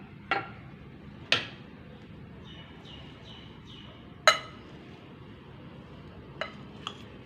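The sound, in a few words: mixing chickpea salad with chopped cabbage in a bowl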